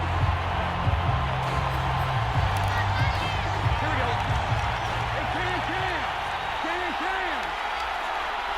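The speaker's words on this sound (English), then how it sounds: "Plenty of shouts from this crowd as they watch the replay." A stadium crowd at an NFL football game between the Bengals and Lions keeps up a steady, dense roar of shouting and cheering throughout, with a commentator talking over it.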